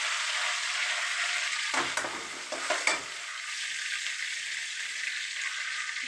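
Ginger garlic paste sautés with curry leaves and coriander in hot oil for fried rice, giving a constant bright sizzle with a short burst of spoon scraping around the middle.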